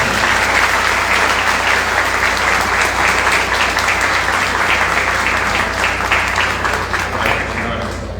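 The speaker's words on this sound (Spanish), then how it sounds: "Yo quiero pedir un aplauso para Bobby" An audience applauds at a book presentation, a loud, continuous wash of many hands clapping that holds steady for several seconds before easing slightly at the end.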